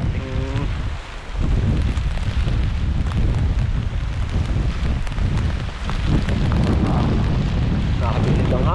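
Strong wind buffets the microphone with a loud, continuous roar and gusty rumble, near and unbroken, with faint voices mixed in at moments.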